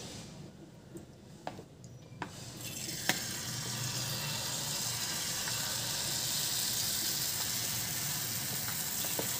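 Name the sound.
jalebi frying in oil in a nonstick pan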